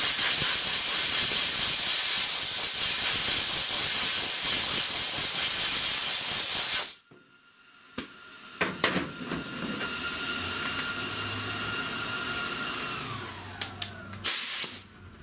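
Compressed air blows off a rust repair area on a 1970 Buick Wildcat window channel, a loud steady hiss lasting about seven seconds that then cuts off, followed by quieter clanks and shop noises.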